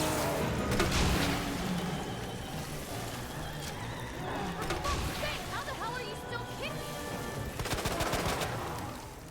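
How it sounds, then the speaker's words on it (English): A minigun firing in Resident Evil 2, rapid bursts of continuous gunfire in several runs separated by pauses, with game effects and a voice mixed underneath. "And then I'm going to use my minigun, basically."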